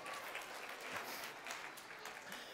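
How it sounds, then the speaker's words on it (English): Audience applause at a Sunday church service, a soft, steady patter of clapping from a crowd in the room that stays faint and even throughout, with no voices over it. "Give yourselves a round of applause."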